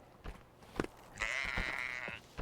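A goat in the climbing video game Peaks of Yore gives a long, loud, wavering bleat lasting about a second, with scattered soft thuds and clicks before it.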